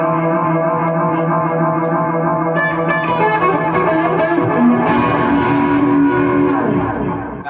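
Electric guitar run through a digital eighth-note delay with reverb, a sustained chordal passage whose repeats smear into a dense wash, played loud and steady with no talk over it.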